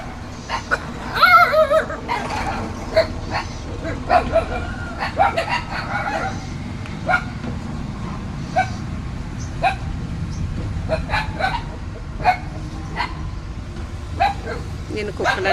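Small dogs and a larger one bark and yip in short bursts near and at a distance, spread through the scene over continuous background noise, with people talking at times.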